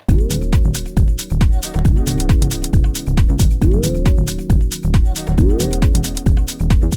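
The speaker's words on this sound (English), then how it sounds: "how to make those bendy chord sounds like" Loud synth chords made in Serum that bend upward in pitch at each attack, repeating over a punchy, steady beat.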